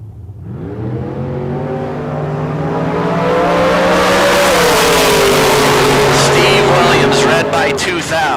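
Drag race cars at a K&N Southwest Showdown run toward the eighth-mile finish line, engines droning loud and rising steadily in pitch as they accelerate, with a crowd-like wash building behind.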